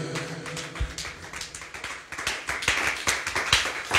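A church congregation claps in praise during a service, with many hands clapping together in a fairly steady, lively rhythm. An instrument hums low underneath at the start.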